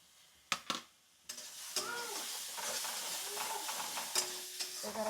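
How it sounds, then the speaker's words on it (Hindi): Ginger-garlic paste and tomato masala sizzle in a pan for rajma, with a few sharp clanks of a spoon at first, then steady frying hiss while being stirred, close and moderately loud. "एकरा के बढ़िया से अच्छा से एक में मिला के भूंज लेवे के बा।"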